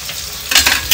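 Onions and green chillies frying in a pan, a steady soft sizzle that grows louder and brighter partway through, heard up close with no talking.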